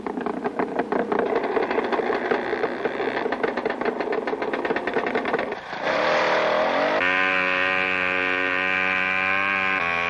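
A 1967 Polaris snowmobile racing across tundra, its engine buzzing loud and rattly with rapid pulsing, then dipping briefly before settling into a steady, higher, droning whine.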